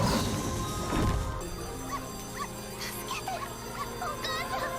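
A dog in the anime Dr. Stone, episode 1, whimpers in short, high, wavering whines repeated several times, close by, after a burst of loud noise at the start.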